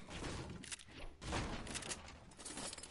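Faint, dense rapid gunfire from a video game shooter rattles on continuously in overlapping bursts, with a couple of heavier thuds and no clear speech.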